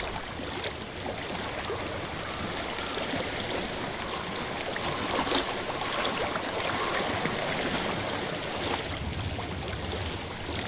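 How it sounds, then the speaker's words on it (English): Steady flowing water, like a stream or river, in the video game Hellblade: Senua's Sacrifice, a broad continuous rush that holds an even level throughout with no talking. "I hear water."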